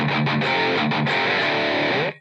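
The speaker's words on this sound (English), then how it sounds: "You get the full distortion from the pedal. So that's the Revv G3." An electric guitar plays through a Revv G3 distortion pedal set to red, its highest gain mode, giving a loud, saturated, sustained chord with a few rhythmic chops before it cuts off sharply.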